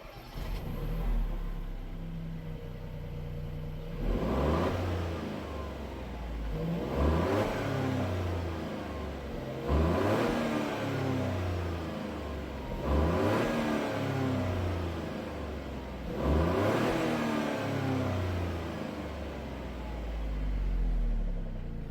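Peugeot 208 GT engine with its stock exhaust silencer, revved in five rising bursts that fall back to a low idle rumble between them, heard close and at moderate loudness.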